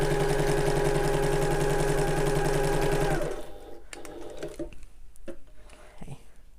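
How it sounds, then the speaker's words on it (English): A sewing machine stitches rapidly and steadily along the top of an interfacing strip for about three seconds, then stops, leaving quieter handling sounds. "You should be sewing just along the very top of that interfacing strip"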